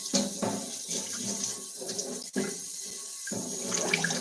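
Hot water pours steadily from a kitchen tap during washing up at a sink with a drain pan, a continuous close splashing stream with small clatters and shifts in the flow.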